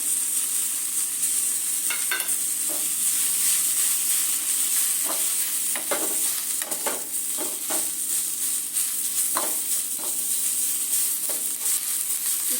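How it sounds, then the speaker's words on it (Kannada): Fenugreek leaves, mint and coriander fry in a pan with a continuous bright sizzle, broken by repeated scraping and tapping of a spatula stirring at irregular intervals, close and fairly loud, with no speech. "ಒಂದು ಹಿಡಿಯಷ್ಟು ಪುದೀನ, ಒಂದು ಹಿಡಿಯಷ್ಟು ಕೊತ್ತಂಬರಿ ಚೆನ್ನಾಗಿ ಎಲ್ಲ ಫ್ರೈ ಮಾಡ್ಕೊಳ್ಳೋಣ"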